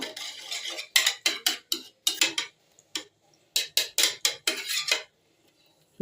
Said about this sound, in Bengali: এখন ভালো করে ফেটিয়ে নিয়েছি